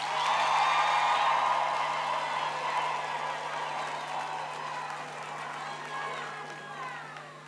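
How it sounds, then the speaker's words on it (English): Graduation ceremony crowd giving graduates a sustained round of applause, a dense wash of many hands clapping that swells at the start and gradually fades over several seconds, with a steady hum underneath. "Let's give our graduates another round of applause."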